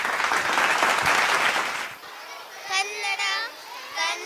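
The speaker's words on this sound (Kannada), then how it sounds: "ಜೋರಾದ ಚಪ್ಪಾಳೆಯ ಮೂಲಕ ವೇದಿಕೆಗೆ ಬರಮಾಡಿಕೊಳ್ಳೋಣ." A school audience claps loudly to welcome young children of the second and third classes onto the stage at a Kannada Rajyotsava celebration, dense applause fading into children's chatter and a voice.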